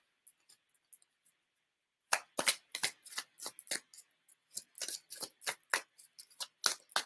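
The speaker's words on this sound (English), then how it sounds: "So let's shuffle some cards." Tarot cards being shuffled: a few soft flicks, then a rapid series of crisp riffling bursts in quick succession, close and clear.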